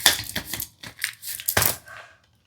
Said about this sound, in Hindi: आपके लिए पहले ही कार्ड्स गिरे जा रहे हैं।